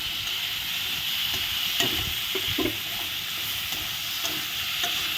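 Sesame seeds frying with cashews and chillies in a pan for butter paneer masala make a continuous close sizzle, with stirring clatter and scrapes scattered through it.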